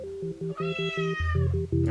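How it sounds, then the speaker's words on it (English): A pet cat meows repeatedly and insistently at close range, a string of drawn-out, rising and falling cries with a steady low rhythmic hum running underneath. "God, why are you meowing like that?"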